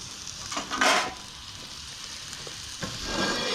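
A burger patty sizzles as it is dropped into a hot Gozney Dome oven: a bright burst of frying crackle near the start, then a quieter steady sizzle with a faint clatter and a second rise at the end.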